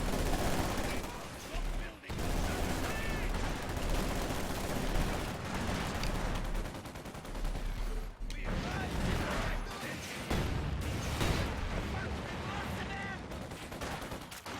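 Dense machine gun and rifle fire in the WWII strategy game Company of Heroes 2, continuous overlapping bursts and sniper shots filling the mix, with a commentator talking over the battle.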